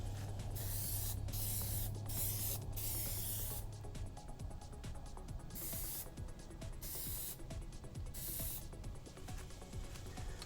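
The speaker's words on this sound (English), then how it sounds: "This is also not like regular spray paint where you want to get just a light dusting in the first coat. You want to put a pretty good coat down." Spray paint hissing from an aerosol can onto Boba Fett armor pieces, a steady close hiss broken by several short pauses between passes, with no talking.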